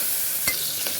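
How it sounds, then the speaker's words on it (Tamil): Onions sauté in a pan for pea kurma, giving a steady close sizzle of frying with a couple of quick stirring scrapes. "வெங்காயம் ஆட் பண்ணியாச்சு. நல்லாவே வதக்கிடுங்க."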